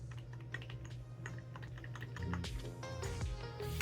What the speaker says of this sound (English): Here's the keyboard. Nice round keys, and they are pretty quiet to the touch.